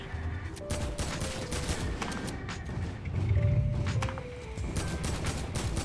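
Pistol gunfire in Fortnite, a rapid burst of sharp shots, a brief louder thumping stretch midway, and game effects beneath.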